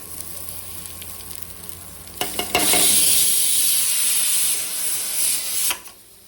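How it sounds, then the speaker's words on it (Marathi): Whole spices and onion dropped into hot oil in a kadhai on a gas stove, setting off a sudden loud, steady sizzle that carries for several seconds and then cuts out, with a quiet stretch before it. "असा खडा मसाला भाजून घेते. त्याच्यातच कांदा टाकून घेते."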